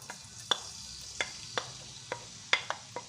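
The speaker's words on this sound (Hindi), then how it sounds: "हम इसमें चॉप किया हुआ लहसुन अदरक डाल लेंगे" Chopped garlic and ginger in half a cup of oil in a kadai make a soft, low sizzle. Sharp clicks and scrapes, likely a spoon against the pan, break through it at irregular moments. No one speaks.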